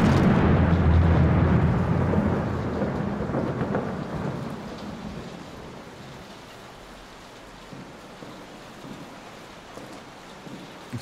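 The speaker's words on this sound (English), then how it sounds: "It's raining inside." Thunder rumbles and rain pours inside a house in the horror game Layers of Fear, a loud rolling roll fading over the first few seconds into steady, quieter rainfall with no talk.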